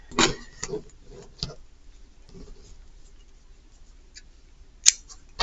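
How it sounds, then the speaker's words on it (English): Scissors cutting yarn during a crochet blanket project, a few short close snips and clicks spread across the clip with quiet gaps between them. "you're going to cut your yarn"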